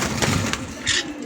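Green cheek conures kept as pets give brief bird calls, with a louder chirp near the end and steady low background noise.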